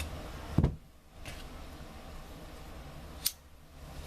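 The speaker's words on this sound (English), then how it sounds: "Take your scissors and cut in a diagonal line." Scissors cutting ribbon diagonally for a cheer bow: one sharp, close snip followed by faint handling and a brief soft click later, otherwise quiet.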